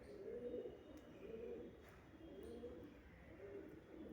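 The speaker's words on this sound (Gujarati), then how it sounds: "આમાં સફેદ કબૂતરા બધાય." Soft, low coos from white pigeons repeat in a steady rhythm, about four rounded calls close by, over a faint background hum.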